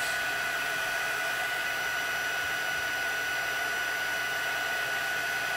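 An embossing heat tool blows hot air over a stamped card to melt the embossing powder, giving a steady, loud, even whir like a hair dryer with no pauses.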